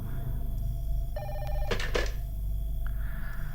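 Telephone bell ringing in the horror video game Five Nights with Froggy, two electronic rings in a row over a low hum, clear and fairly close.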